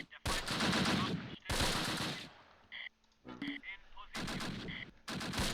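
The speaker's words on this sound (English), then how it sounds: "We are still taking shots from up there." Gunfire from the World War II video game Close Combat: bursts of rapid machine-gun fire alternate with brief quieter gaps holding scattered single shots, loud and close, while someone talks intermittently in between.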